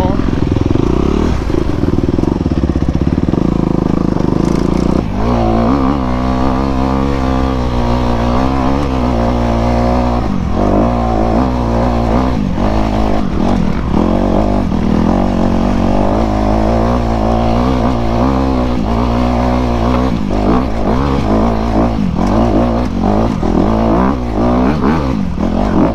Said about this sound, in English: He has the Honda something 250, the 250 RX. So far, this bike is really smooth and very manageable.